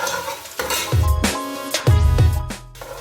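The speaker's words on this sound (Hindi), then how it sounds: "3 अदद दरमियानी प्याज डाल के मैं जो है इसको फ्राई करूँगी" Onions frying in a pan while a spoon stirs them, with loud bursts of sizzling and scraping strokes against the metal, close and alone without talk.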